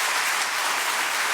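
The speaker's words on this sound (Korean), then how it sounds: "박수 한번 치겠습니다." A church congregation applauds together during a Sunday sermon, producing a steady, dense wash of many hands clapping that stays even and loud throughout, with no talk over it.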